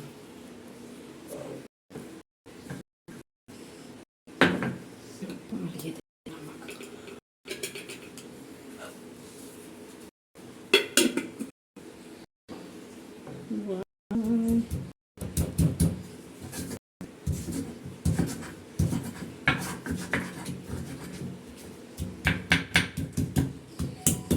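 Chillies are pounded for chutney on a stone grinder, with repeated knocking thuds in uneven bursts, close and moderately loud, broken by short pauses.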